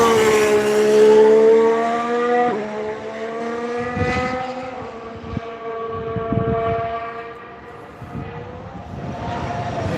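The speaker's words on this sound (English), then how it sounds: "Comes the Toro Rosso." A Toro Rosso Formula 1 car pulls out during pre-season testing at Catalonia, its high engine note rising and shifting through gears, loud and close before easing, with more engine bursts and revs following.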